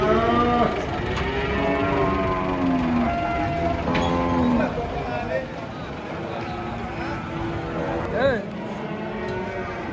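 Several loud, drawn-out moos close by from a cow that has lost its calf, overlapping and repeating across the clip, with people talking underneath.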